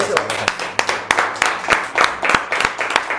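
A few people clapping for French actor Daniel Prévost, with sharp, uneven claps spaced irregularly and a voice speaking between them.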